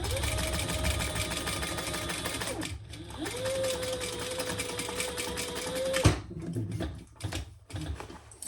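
Domestic sewing machine back stitching a garment seam, a steady mechanical whir in two bursts of about three seconds each with a short pause between, close and fairly loud, followed by quieter handling noises.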